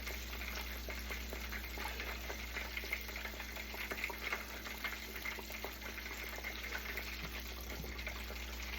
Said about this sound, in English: It's boiling a lot more.